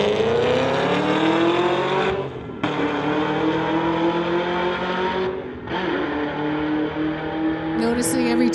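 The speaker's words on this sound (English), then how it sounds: "it looks like it's going to be a solo pass here for the Camaro" A Chevrolet Camaro on a solo drag strip pass, its engine roaring loud and close as it accelerates hard, with brief dips at two gear shifts before the pitch climbs again; a voice talks over it.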